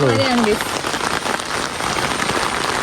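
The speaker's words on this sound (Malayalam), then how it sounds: "വീണ്ടും നല്ല മഴ." Heavy rain pours steadily in a forest in a dense, hissing wash of drops, with a brief voice-like tone at the very start.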